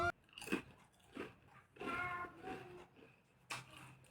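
Crunchy potato chips being bitten and chewed during a village-style meal with fish curry, a few close crisp crunches and bites spread over a few seconds with quiet pauses between.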